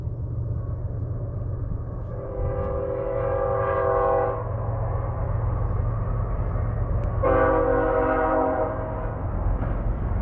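A train horn sounds at a crossing in two long chord blasts over a steady low rumble of the passing train, moderately distant.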